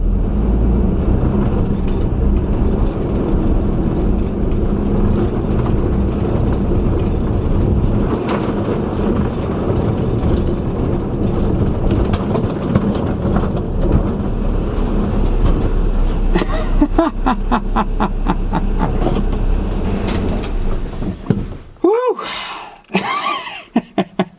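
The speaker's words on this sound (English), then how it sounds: "I'm just going to put this in gear, gun it, and just try to zoom right into the garage." A pickup truck left parked for three months, its engine droning loud and steady for a long stretch, then revving and cutting out in bursts near the end, with someone talking over it.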